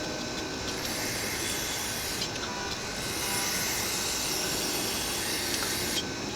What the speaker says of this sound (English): I'm going to use throttle body cleaner